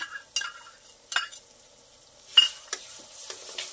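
Ketchup, red chili sauce and Schezwan chutney being stirred through pasta in a hot pan, with soft scraping strokes and light sizzling coming in intermittent bursts, close by, with no talking.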